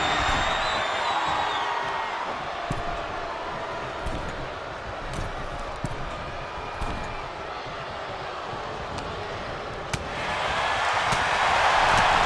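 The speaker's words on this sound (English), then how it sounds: "when you can't hear yourself think because the crowd's so loud" A dense, roaring wrestling arena crowd fills the whole stretch at a steady loud level, cheering swelling again near the end, with no talking heard above the din.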